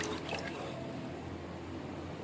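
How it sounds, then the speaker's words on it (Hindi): Two glasses of water are poured over about a kilogram of mutton in a pressure cooker, giving a brief close splash and trickle that fades into a low wash, with no talk. "तो मैं 2 गिलास पानी इसमें शामिल करूँगी।"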